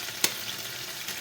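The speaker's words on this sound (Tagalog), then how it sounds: "Maglalagay ulit ako ng kunting mantika. Kasi ilalagay naman natin yung ating egg." Egg frying in a little oil in a pan beside garlic while kwetiaw noodles are cooked, a steady soft sizzle with one brief sharp crackle near the start.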